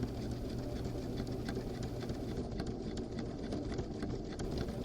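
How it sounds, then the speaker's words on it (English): A domestic sewing machine top stitching through the layers of a lined fabric handbag, a steady close mechanical whirr with a fast needle patter running without pause throughout. "we're going to top stitch this in place on the sewing machine"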